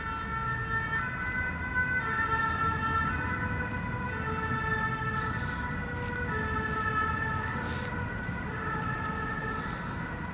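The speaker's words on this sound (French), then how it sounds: "Là, vous entendez, on entend une ambulance." An ambulance siren wails steadily at a distance through the whole stretch, its two-tone rise and fall sustained over a low rumble of outdoor background noise, heard alone with no voices over it.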